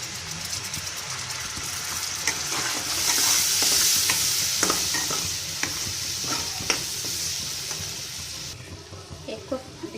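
Ingredients for a spicy South Indian mutton chutney fry in oil over a low flame, a gentle steady sizzle punctuated by close scraping stirs of a spoon in the pan.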